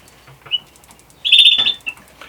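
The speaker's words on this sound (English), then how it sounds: "I've got a hen up here." A hen up in a coop, sitting on a clutch of five eggs, gives a short, sharp high call after a few faint chirps and soft rustling. The call stands out alone against quiet surroundings.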